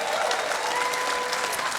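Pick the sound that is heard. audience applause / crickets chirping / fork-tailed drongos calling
audience applause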